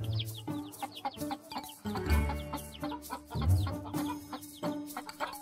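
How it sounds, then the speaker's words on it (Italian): Several chickens cluck and squawk close by in a busy, overlapping chatter, with occasional louder calls. "Oh mio Dio, le galline."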